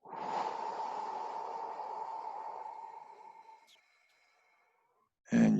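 A slow, steady breath drawn and released through the nose, one long airy exhale fading into silence, close and alone, followed by a brief sharp breath noise at the end.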